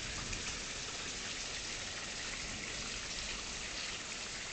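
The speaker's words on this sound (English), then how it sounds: "The rain is letting up." Rain in Tulsa, Oklahoma eases after a quick-moving thunderstorm, a steady, even hiss of falling water and drips that stays constant and moderately quiet throughout.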